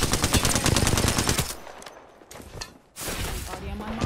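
Video game gunfire: rapid automatic bursts rattle loudly and continuously, drop to a lull with a few scattered shots, then resume in a dense volley.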